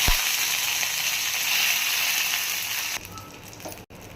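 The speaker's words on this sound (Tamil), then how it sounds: "எண்ணெய் ஊற்றி கடுகு சேர்த்துடலாம். கொஞ்சமாக சீரகம், கருவேப்பிலை சேர்த்து" Mustard seeds, cumin and curry leaves tempering in hot oil for a Tamil kootu, a loud, steady close-up sizzle and crackle that fills the whole clip, briefly dipping near the end.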